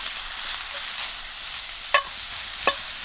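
Mushrooms and onions sauté outdoors with a steady soft sizzle, broken by two sharp scraping knocks as a stick stirs the pan, close, with no voices.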